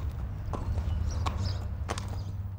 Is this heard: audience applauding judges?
no